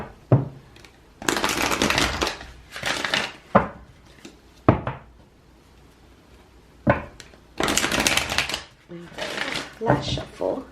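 Tarot cards being shuffled by hand, heard as crisp, papery bursts that come close and in irregular spurts, with short pauses between shuffles.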